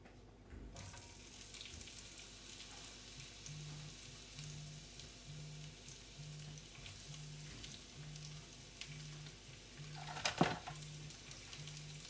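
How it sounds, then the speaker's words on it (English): Onions frying in a pan with a steady, hissing sizzle running throughout, a faint regular low pulsing underneath and a brief clatter near the end, with no talking. "make sure that the rest of these onions are separated, and then they'll go right into the pan"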